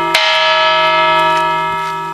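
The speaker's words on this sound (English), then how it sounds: "An original church bell from the late 1800s still rings for worship services and for other events." An original church bell from the late 1800s is struck once, loud and near, its bright clang settling into a long, steady ringing hum that slowly fades.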